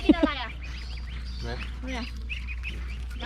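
Ducks quack a few times up close, a couple of loud calls at the start, then softer quacks and chirps as people talk nearby.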